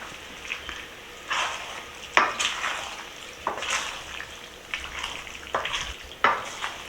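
Macaroni pie ingredients, with mustard and ketchup added, being stirred together in a bowl: a series of soft, wet scraping and squelching strokes, close and fairly quiet, coming in uneven bursts.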